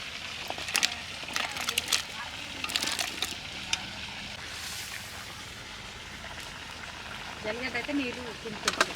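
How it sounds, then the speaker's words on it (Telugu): Boiling water is poured over chunks of elephant foot yam as they are set to cook for a curry, giving a steady rain-like splashing and sloshing with brief louder splats, close by and continuous, with a faint voice at times. "కందగడ్డల్ని ఉడుకుతున్న నీళ్ళు వేద్దాం."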